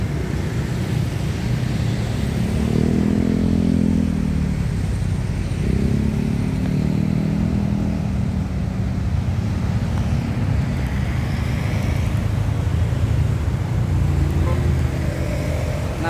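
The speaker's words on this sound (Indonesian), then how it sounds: "kendaraan bermotor baik dan juga mobil ya." Dense traffic of motorbikes and cars on a busy street near Baiturrahman Mosque in Semarang, Central Java: a constant loud roar with engines swelling as vehicles pass close by, and no talking.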